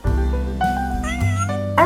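A cat gives a run of clear, loud meows close by, several drawn-out calls rising and falling with no talk over them.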